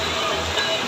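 Heavy rain pouring down at night in Baclaran with strong wind, a dense, loud and unbroken hiss of falling water with no gaps.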